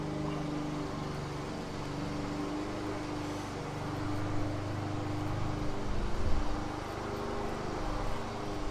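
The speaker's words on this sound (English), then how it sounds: "Sorry about the lawnmower in the back." A steady, low lawnmower engine drone hums continuously in the background, fairly faint and unchanging, some distance away outdoors.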